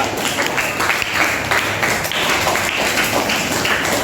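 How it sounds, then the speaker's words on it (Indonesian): Dense, steady applause from a class group, many hands clapping continuously at close range with no break. "Tepuk tangan untuk kelompok 2."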